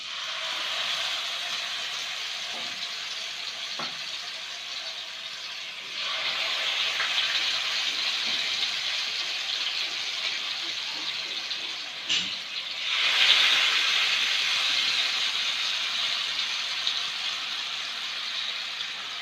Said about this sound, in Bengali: এটা হালকা তেলে ভেজে নিতে হবে